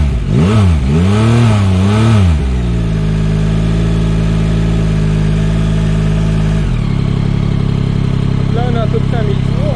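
A Yamaha MT-09 motorcycle engine, in its A2-licence version, gives a few sharp revs, then settles into a steady, loud idle that drops to a lower rumble after a few seconds.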